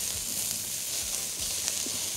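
Cabbage sautéing in a pan, a steady close sizzle and hiss of frying with faint stirring movement underneath, continuous and even, no voices.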